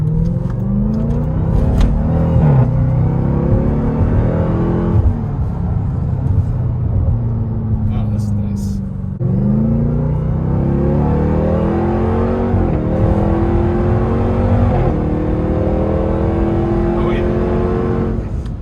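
A Dodge Charger Hellcat's engine roars loudly while driving, its revs rising and falling through several gear changes, with voices talking underneath at times.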